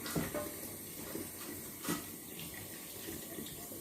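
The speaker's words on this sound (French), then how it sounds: "je vais bien rincer ça, bien laver, parce que si tu ne laves pas bien, le poisson, ça sent là" Tap water runs steadily over fish being rinsed and washed in a sink, a continuous close splashing wash with a few brief louder surges.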